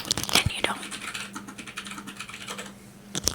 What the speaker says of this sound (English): We're picking up keyboard sounds.